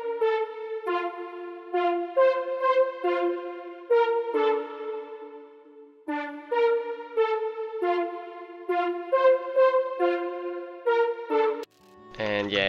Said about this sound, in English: It's a two oscillator analog MIDI synth.